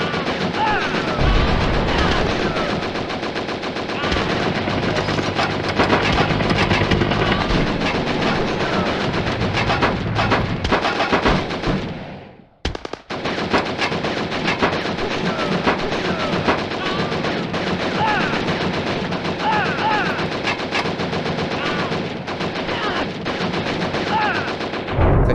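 Rapid gunfire and explosions in the VR arcade shooter Operation Warcade while driving, dense, loud and continuous bursts with a brief drop in the middle, a voice talking over the action.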